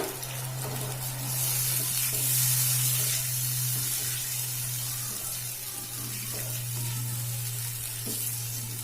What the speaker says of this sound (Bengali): জল দিয়ে দিচ্ছি গ্রেভিটার জন্য।